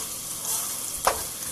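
Chili and minced garlic fry in a large pan with a quiet, even sizzle, and a brief scrape of stirring comes partway through.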